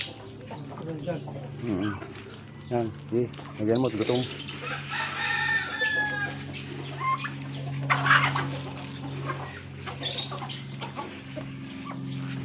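Hens on a small farm with semi-Brahma chickens, clucking and squawking nearby in irregular bursts while people talk throughout.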